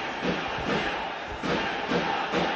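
Spectators at an ice hockey game give a sustained ovation, a dense roar of crowd cheering that swells in waves throughout, fairly distant and steady.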